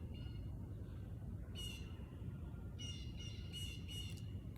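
Birds call outdoors in a few short, sharp chirps and squawks, one at first and then a quick burst of several, over a steady low background rumble.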